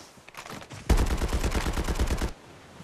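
Rapid automatic gunfire from a video game bursts out in a fast, even rhythm of roughly twenty shots, loud and close, stopping abruptly, preceded by a few softer clicks.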